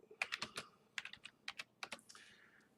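Keystrokes on a computer keyboard, a quick irregular run of about a dozen crisp clicks in short bursts, close and clear with no talking.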